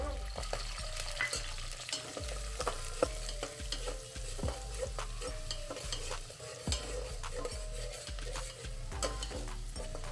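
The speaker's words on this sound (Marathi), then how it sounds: "मी हे चिरून घेतलेला बार कांदा ह्याच्यामध्ये घालतो" Chopped onion sizzles steadily in a hot pan after tempering while a utensil scrapes and stirs in repeated strokes, close up with no talking.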